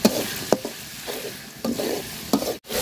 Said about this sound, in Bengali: মশলাটা আমি তেলের সাথে সুন্দর করে ভাজা নিছি, শুটকি দিয়ে দিলাম